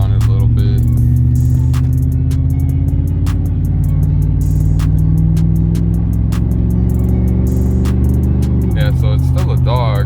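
A Chevrolet Silverado pickup engine revs and accelerates with a rising drone, loud and close from inside the cab, then shifts gear near the end.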